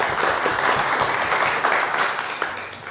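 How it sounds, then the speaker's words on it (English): A round of applause at a bird study group meeting, steady, close-sounding clapping from a modest crowd that holds for a few seconds and then begins to taper. "So let's first give a round of applause to Dina."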